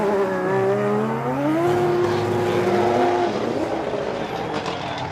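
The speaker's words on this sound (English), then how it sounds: "And you hear the cars popping, ready to go." Formula Drift Japan 2024 drift cars with 2JZ engines revving loudly at the start line, harmonic engine notes sweeping up and down, with crackling pops and exhaust bursts toward the end.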